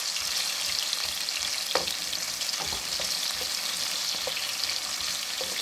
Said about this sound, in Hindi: उसमें मैंने प्याज डाल दिए और मैं अब अपने प्याज को हल्का सा फ्राई करूँगी